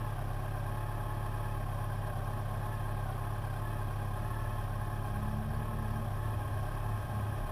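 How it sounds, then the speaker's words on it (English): A Honda CBR sport motorcycle passes by, its mid-pitched engine holding a steady, continuous drone at moderate distance against a constant background rumble, with no voices. "Here goes the CBR."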